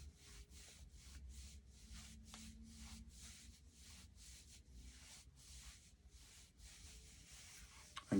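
Hands rubbing up and down the upper arms around the biceps, a soft rhythmic brushing swish repeating steadily, close and quiet, with no talking.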